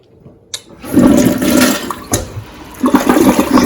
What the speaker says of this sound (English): let's do a flush test